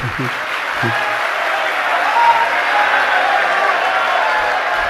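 An audience at a religious discourse breaks into sustained applause, a dense, even wash of clapping that fills the room and continues without pause, with a few brief voices at the start.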